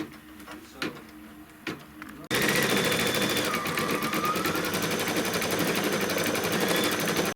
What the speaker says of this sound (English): So we're just going to start stitching the clover.